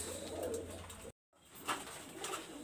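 Pakistani high-flyer pigeons coo in a soft, steady low murmur, close by and continuous apart from one brief break of silence, with no voices.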